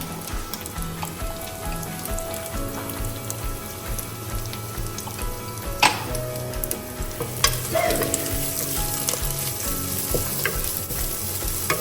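Sri Lankan black pork curry frying hard in a pan as chili goes in, a steady loud sizzle with occasional stirring scrapes and clinks, close up and with no talking.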